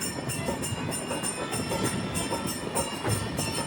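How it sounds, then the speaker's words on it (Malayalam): The Telangana Express pulls into Bellampalli station, a steady rumble of carriages with rhythmic wheel clatter heard from on board, moderately loud and continuous without voices. "പന്ത്രണ്ട് 25 ട്രെയിൻ ഇപ്പോൾ ബെല്ലാമ്പള്ളി എന്നൊരു സ്റ്റേഷനിലേക്ക് ഇതാ എത്തുകയാണ്"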